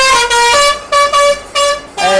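A vehicle horn honks near Mahabaleshwar, sounding four loud, close blasts in an uneven rhythm with short gaps between them.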